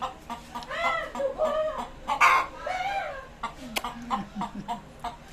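A chicken clucking in short bursts and warbling calls, close by, with a few soft background noises between the calls.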